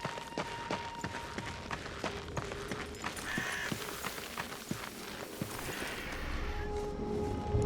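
Horse hooves clatter in a steady galloping rhythm across stone in the video game Darksiders II, close and fairly loud, with a low rumble swelling toward the end.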